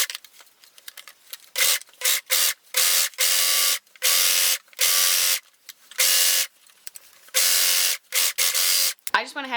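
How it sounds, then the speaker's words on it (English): A serger runs in repeated bursts of fast mechanical stitching as it overlocks a seam sewn in white thread, each run a few seconds long with short pauses between, close and fairly loud. "now I'm going to go ahead and serge the seam that I just sewed"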